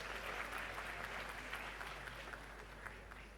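Applause from a congregation crowd for the KNUST Regiment Band, steady and even throughout, quiet and somewhat distant with a constant low hum underneath.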